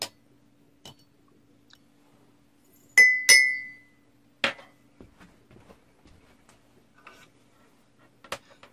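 A cup set down on a table with a pair of bright clinks, followed by a few faint ticks and taps in an otherwise quiet room.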